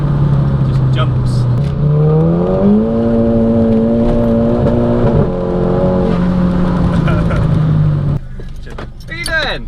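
A tuned 355 bhp Mk5 Golf GTI accelerating hard from inside the cabin, its engine note climbing steadily through the revs before easing off, loud and close, with a brief jangle near the end.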